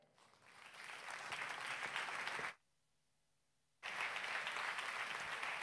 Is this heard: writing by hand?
no